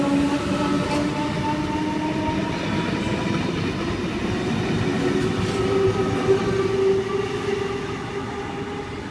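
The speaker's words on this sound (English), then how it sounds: "Now we've got V12 now, but departing platform number 6 for a Mount Victoria service." An NSW TrainLink V-set electric train pulls away from a platform, loud and close, with a steady motor whine rising in pitch over rolling wheel noise for the whole stretch.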